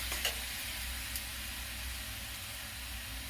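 Tomatoes sizzle in a pan over a lowered gas flame, with a steady broadband frying hiss running throughout and a couple of faint stirring scrapes near the start.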